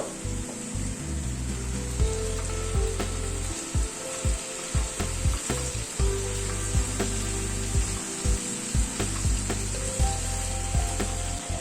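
Rohu fish cooks uncovered in a pan over a low-medium flame, giving a steady faint sizzle with occasional clicks and light scraping, no talk.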